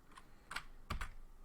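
A few quick keystrokes on a computer keyboard type out a Linux rmdir command: a light tap, then a short cluster of clicks and two firmer strokes near the end, close and fairly quiet.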